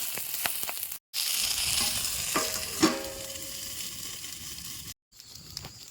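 Egg frying on banana leaf in a pan, village style, gives a steady close sizzle and crackle with a few sharp scraping taps of a utensil.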